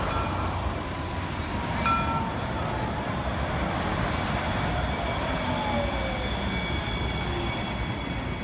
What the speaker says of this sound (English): Here comes Blue Line train to Santa Teresa